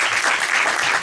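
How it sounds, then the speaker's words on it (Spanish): Dense audience applause fills a Spanish-language talk on responsible communication and disinformation, steady and loud throughout the short moment with no voices over it. "Un fuerte aplauso."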